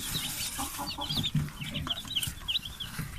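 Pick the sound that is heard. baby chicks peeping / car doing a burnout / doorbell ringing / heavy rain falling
baby chicks peeping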